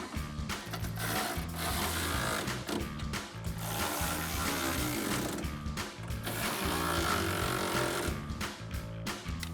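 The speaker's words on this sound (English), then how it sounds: "We're gonna grab our ratchet and a 16mm socket and tighten all 3 of these down on either side." Close, continuous ratcheting from a ratchet with a 16mm socket tightening roll bar bolts on a Jeep Gladiator JT, heard as rapid clicking strokes with brief pauses between passes and no voices.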